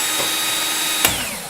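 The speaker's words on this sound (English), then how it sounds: "I just use a corded drill" A corded electric drill drives a brass cartridge case trimmer in a steady, loud, continuous whine, with a brief sharp click partway through.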